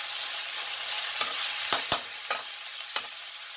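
Three green chillies frying lightly in hot oil over a high flame, a soft steady sizzle broken by a few sharp pops and spatters, no voices.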